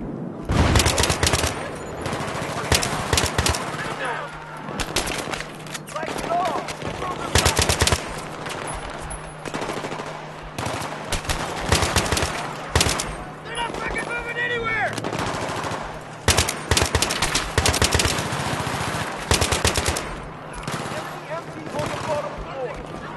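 Bursts of machine gun fire from Battlefield 3 on PC, loud and repeated in rapid volleys across the whole stretch, mixed with other gunshots and battle noise while voices shout over the combat.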